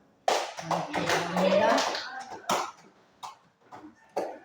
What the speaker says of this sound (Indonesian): tepuk tangan untuk robotnya